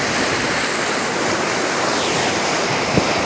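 Water rushes loudly and steadily through a canal as a constant dense roar, close by, with no talking.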